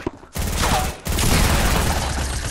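A shotgun in the video game Fortnite fires in two loud, harsh blasts about a second apart, each with a sustained, crackling roar close up and no talk over it.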